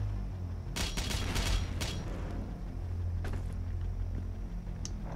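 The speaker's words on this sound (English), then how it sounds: "Get our plasma rifle out." Plasma rifle bursts in DOOM Eternal on Mars Core, a few rapid volleys of sharp energy shots in quick succession with a booming, mechanical edge over game ambience.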